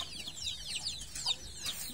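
Native farm chickens cluck in short, quick bursts, several birds close by with bright overlapping calls over a quiet background, no talking.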